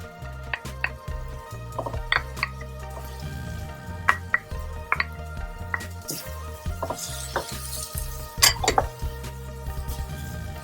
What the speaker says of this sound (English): You're going to add the beef and the carrot.